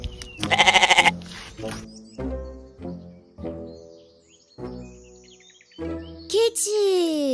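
Goat bleating in several separate wavering calls, close and fairly loud, spaced irregularly with quiet gaps and a rapid trembling bleat near the start.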